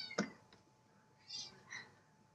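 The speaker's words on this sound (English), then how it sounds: "my son's trying to pick the cat up." A house cat meows a few times, one short sharp call near the start followed by two softer mewing cries, while a child tries to pick it up indoors; no talking.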